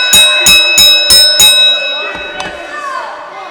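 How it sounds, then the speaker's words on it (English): At a wrestling event, a bell is struck five times in quick, evenly spaced succession, loud and metallic with ringing overtones, followed by one softer strike as the ringing fades. "trying to get the bell to ring"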